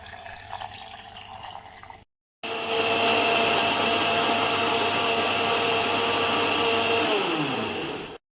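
A kitchen mixer grinder whirs loudly as it blends banana, sugar, milk and water in its jar, starting after a brief pause and running steadily for several seconds before the motor winds down.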